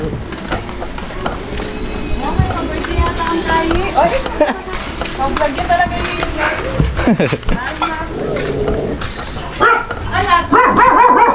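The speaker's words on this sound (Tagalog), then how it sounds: "May mga aso." Dogs bark repeatedly at close range amid busy background noise at a surprise birthday party, with people talking over much of it.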